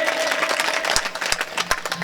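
Audience claps and applauds at a Hindi kavi sammelan poetry recital, a steady close wash of hand claps with a few sharper individual claps standing out.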